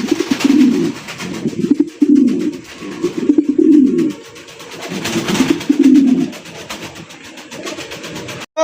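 King pigeons coo in a steady series of low, throaty calls, close and fairly loud, with several overlapping birds and no voices.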